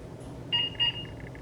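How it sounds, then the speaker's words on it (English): A MedX lumbar exercise machine gives two short electronic beeps about a quarter second apart during a slow back-extension exercise, clear over a low steady room hum. "she'll hear a beep at the front."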